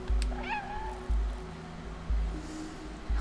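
A ginger cat meows in the video game Stray, one rising-and-falling call near the start over a steady game soundtrack with repeating low thumps.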